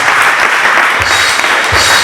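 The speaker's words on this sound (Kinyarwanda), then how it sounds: "tumukomere amashyi menshi cyane" Church congregation applauding a pastor, loud sustained clapping from many hands filling the space, with a couple of low thumps under the steady crackle.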